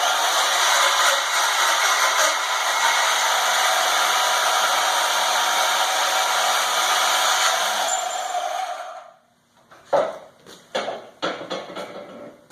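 A Bauer 10 amp portable band saw cuts 1-inch angle iron with 1/8-inch wall, a loud steady high whine and rasp lasting about nine seconds, then the cut ends and a few short clanks and rattles follow.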